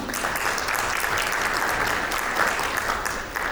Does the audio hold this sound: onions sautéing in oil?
no